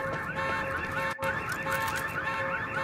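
A car alarm blares in the video game Quantum Break, a steady tone with repeating warbling sweeps that carries on throughout and stops only for a brief moment in the middle.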